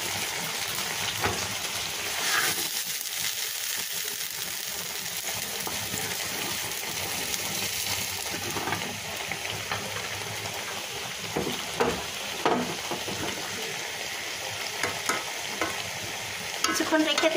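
Fried shrimp is added to boiled vegetables in a pan and stirred, with a continuous frying sizzle and repeated close scraping and clanking strokes that grow more frequent near the end.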